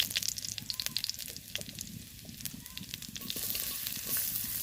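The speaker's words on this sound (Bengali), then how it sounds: "দিয়ে দিলাম তেলের মধ্যে রসুন কোচা কোচানো রসুন একটু লাল হতেই দিয়ে দেবো পেঁয়াজ কুচি" Chopped garlic and onion fry in a little mustard oil, giving a steady, close, fairly quiet sizzle and crackle that brightens slightly toward the end, with no talking.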